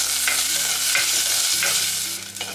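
Shallots with dried red and green chillies sauté in hot oil as a spoon stirs through them, a steady close sizzle broken by a few scraping strokes against the pan, with no voices.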